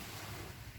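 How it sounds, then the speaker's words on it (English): Ocean waves on a beach make a steady, full wash of surf and wind noise, close and continuous with no voices. "and the waves in the background"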